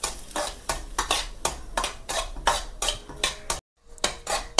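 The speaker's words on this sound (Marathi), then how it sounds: "थोडंसं तेल टाकून भाजून घ्यायचं आहे रवा" Semolina being dry-roasted with a little oil in a pan for upma, a metal spoon scraping and stirring in a steady run of clinks and scrapes, close and fairly loud, with one brief pause near the end.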